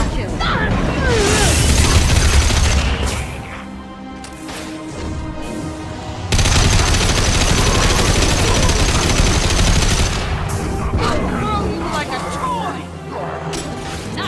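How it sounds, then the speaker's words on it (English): Rapid, dense gunfire bursts in the Mass Effect 2 video game, loud and continuous with brief lulls, layered with cracks and impacts while combat voices shout over it. "Firing now!"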